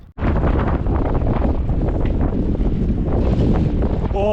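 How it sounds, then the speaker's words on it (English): Strong wind buffets the microphone on a foggy walk near the Forth Road Bridge, a loud, continuous roar with gusty rumble that barely lets up, and no voices over it. "Oh, it's windy."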